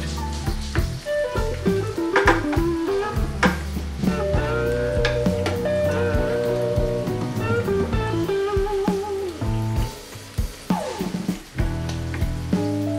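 Jalapeños sauté in a pan for salsa verde, sizzling and crackling steadily with intermittent stirring scrapes and clanks, close and fairly loud, with no talking.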